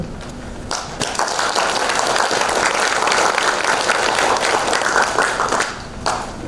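An audience at a Korean political speech breaks into dense, steady applause that swells quickly and carries loud for several seconds before tapering off.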